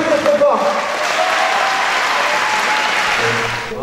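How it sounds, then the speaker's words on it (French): A large audience at a film premiere claps loudly and steadily, with a brief voice heard at the start before the applause swells and then tapers off. "On peut les applaudir très fort."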